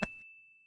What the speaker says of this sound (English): we'll hit the bell every time